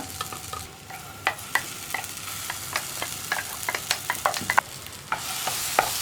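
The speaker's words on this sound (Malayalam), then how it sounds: "അപ്പോൾ ഞാൻ ഈ ചക്ക അരച്ചതും കൂടി ചേർത്ത് കൊടുക്കുകയാണ്." Ground jackfruit is sautéed in ghee for payasam, with a soft sizzle under repeated sharp clicks and scrapes of a spoon stirring against the pan, near and alone.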